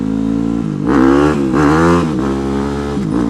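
A motorcycle engine revs hard and loud through a wheelie, rising in pitch in two surges with a brief dip between, close and continuous with no talk.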